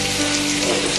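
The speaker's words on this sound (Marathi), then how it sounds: "आता ह्याच्यावर आपण मशरूम घालूया." Mushrooms tossed onto onions cooking in butter, giving a loud, dense, close sizzle that holds steady through a brief moment with no voices.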